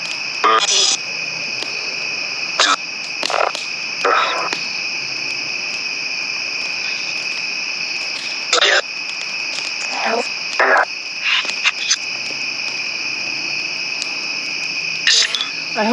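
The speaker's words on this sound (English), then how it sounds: "Bugs." Night insects chirping in a yard, a steady high-pitched drone running throughout, broken by a few brief louder bursts of nearby noise.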